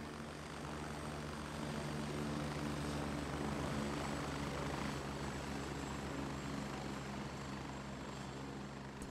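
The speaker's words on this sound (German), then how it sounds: "Ah, jetzt kommt auch noch ein Heli." A helicopter in the shooter game Gray Zone Warfare drones steadily with dense rotor and engine noise, holding a constant level throughout with no speech.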